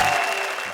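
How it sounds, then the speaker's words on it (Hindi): Audience applause for a poet on a Hindi comedy poetry stage show: a short, dense burst of steady clapping from a full crowd, loud and even throughout. "जरा तालियां बजाइए सुरेंद्र यादवेंद्र।"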